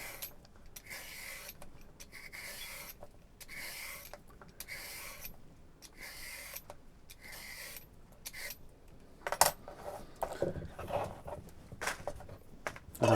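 A peeler scrapes the outside of a carrot in a run of rhythmic rasping strokes, about a dozen of them spaced roughly a second apart, close by and moderately loud, growing more irregular toward the end, with no talk.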